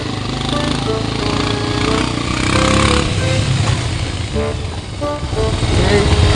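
A 150cc motorcycle rides along a rough, bumpy road, its engine droning loud and steady throughout with rattling, wind-blown roar and occasional voices mixed in.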